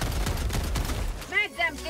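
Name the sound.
Breaker shotgun firing in video game Helldivers 2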